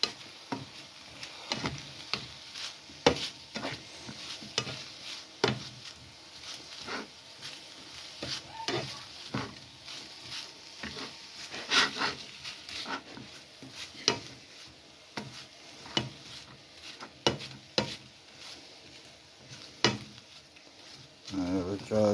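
A spoon stirs curry sauce in a pan over heat, giving repeated scraping and clinking strokes in a steady, moderately quiet rhythm, with a soft sizzle beneath.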